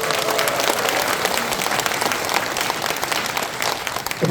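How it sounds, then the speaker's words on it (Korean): A conference audience gives loud, sustained applause, a thick and even burst of clapping from a large crowd that holds steady throughout. "크게 한번 박수 한번 주세요."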